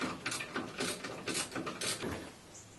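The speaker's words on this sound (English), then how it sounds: "Now we'll just tighten these down" A hand ratchet clicks in quick, steady runs while the bolts on new front suspension parts from a Frontline Developments kit are tightened down. The clicking is close and fairly soft, with short pauses between strokes.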